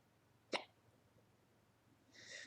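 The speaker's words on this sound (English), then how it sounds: "And also I got hiccups as well." A single sharp hiccup bursts out near the start, brief and fairly close, followed by quiet room tone and a faint higher noise toward the end.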